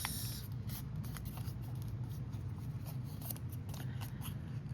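Paper being folded into a small gift box, with crisp creasing and rustling taps near the microphone over a steady low background hum.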